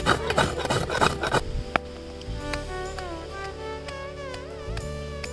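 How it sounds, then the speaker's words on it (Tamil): Coconut is grated by hand in a village kitchen, a close series of rough rasping scrapes that comes in quick bursts, then gives way to quieter, scattered scraping. "முதல்ல தேங்காவை நல்லா திருவி எடுத்துக்கலாம்."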